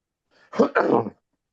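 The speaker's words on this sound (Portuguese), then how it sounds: "o antialérgico vai perdendo efeito, a tosse vem." A person with allergies coughs twice in quick succession, close and clear, against a silent background.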